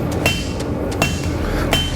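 Hammer forging a hard chunk of high carbon steel for a wakizashi blade, three loud ringing metallic strikes spaced under a second apart with lighter taps between them, near and clear with no talk.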